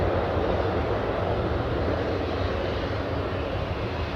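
A Ryanair airliner at Newcastle Airport produces a steady, loud engine roar that holds broadband and unchanging throughout, with no voices over it.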